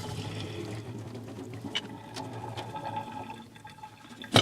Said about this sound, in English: you grab it and hold the lid in place and pour the water away